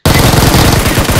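Rapid burst of automatic gunfire in Battlegrounds Mobile India, loud, close and continuous over about a second.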